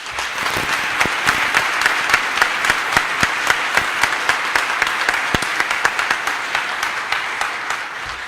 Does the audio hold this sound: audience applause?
yes